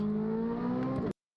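A Corvette Z06 engine holds a high, steady rev at redline inside a tunnel, with a strong, clean tone that cuts off abruptly after about a second.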